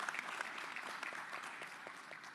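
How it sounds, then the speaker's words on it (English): A conference audience gives a round of applause, with many hands clapping in a steady, moderately distant patter that sounds fairly soft throughout. "round of applause"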